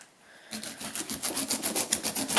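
A knife saws through a whole pineapple near its edge, producing a steady, close scraping and rasping with a rapid repeated rhythm and no talk.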